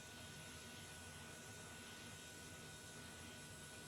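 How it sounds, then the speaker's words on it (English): Transall C-160 military transport plane auxiliary power unit running in Microsoft Flight Simulator, a steady, faint turbine whine and broadband rush holding constant with no change in pitch. "So, all right, APU is starting."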